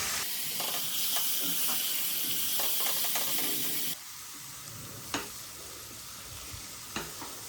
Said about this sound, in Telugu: కూర అంతా సమానం కలిపేసుకునండి